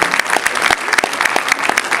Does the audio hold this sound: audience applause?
yes